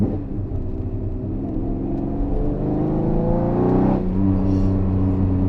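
A Koenig Specials Ferrari Testarossa from the 1980s pulling in second gear, its engine a steady loud close rumble with harmonic drone that swells briefly around the middle before settling, no talk.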